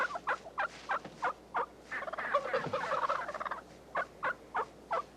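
A wild turkey gobbles in a rapid rattling burst, surrounded by a steady series of evenly spaced clucks and calls, moderately near with quiet background.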